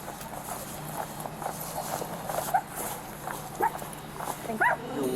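A police K-9 dog searching a house gives a few short, sharp barks in the last seconds, fairly faint amid muffled indoor movement and footsteps.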